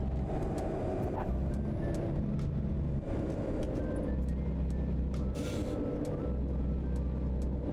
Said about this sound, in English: the truck makes a lot of noise